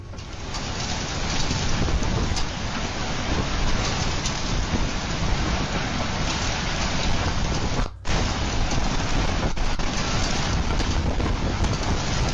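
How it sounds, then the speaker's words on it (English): A tornado storm sweeps past a crowded parking lot, caught by CCTV: a loud, continuous roar of wind-driven rain with no pauses, except for one brief dropout near the end. "These CCTV cameras captured the storm as it passed by a crowded parking lot."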